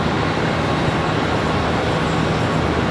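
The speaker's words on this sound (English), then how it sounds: "That one there, flying exclusive, coming in from ADS Dallas. Cessna Citation XL." A Cessna Citation XL business jet arriving at Charlotte Douglas airport makes a loud, continuous engine roar, dense and unbroken throughout.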